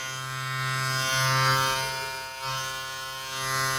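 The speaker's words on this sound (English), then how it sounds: "I'm gonna microphone check the clipper" A Suprent Black Obsidian hair clipper runs continuously close to the microphone, holding a steady electric buzz with a strong low hum that swells slightly in loudness now and then.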